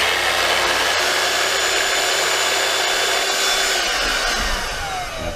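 A DeWalt DCH274 SDS drill runs with a D25303DH HEPA dust extractor attached, giving a loud, steady broadband whir and hiss close by that holds for the whole stretch and eases slightly near the end.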